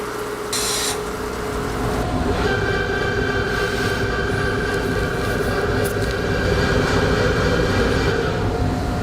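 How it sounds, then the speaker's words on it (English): A punching-tool sharpening machine touches off on a part and calibrates it to the wheel, giving a continuous steady mechanical hum with sustained tonal whines and a brief high hiss near the start. "the first thing it's going to do is touch off on the top of the part to locate it, and then it'll calibrate the top of the part to the wheel"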